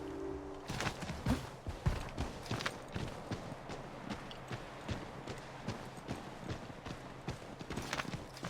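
Horse hooves in the video game Assassin's Creed III clip-clop at a walking pace, a steady run of hollow knocks up close with faint background tones.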